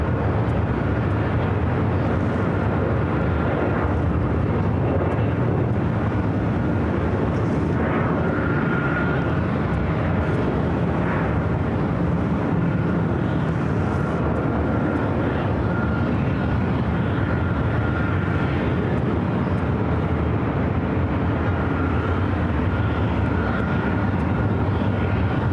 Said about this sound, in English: I do see Speedbird, the A380, heading down